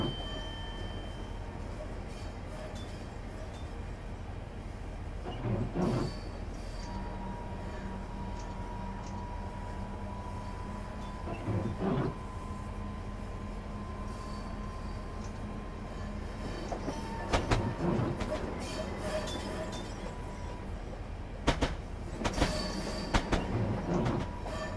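A Class 395 high-speed train running on the rails on a London to Faversham service. A steady low rumble is heard from on board, with periodic rail joint clicks and a faint sustained whine.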